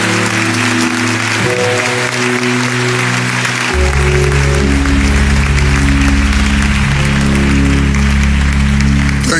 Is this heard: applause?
yes